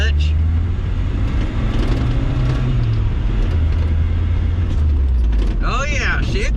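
A 1979 Chevy LUV pickup with a load in the back accelerates, its engine note rising and droning loudly close by amid road and mechanical noise, with a brief whine near the end.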